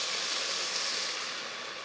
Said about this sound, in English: I can add a little bit of that to the bottom. And that's going to actually help it steam a little bit.